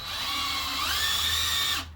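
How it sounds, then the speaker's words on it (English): A power drill bores into masonry with a steady, close, high-pitched whine that rises slightly in pitch partway through, then cuts off abruptly near the end. "You can use it to drill and you can use it to drive screws."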